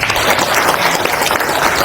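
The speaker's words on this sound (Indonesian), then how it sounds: "tepuk tangan untuk beliau." Loud, dense applause from a crowd at a Gerakan Rakyat political party gathering, a continuous roar of clapping hands with no break throughout.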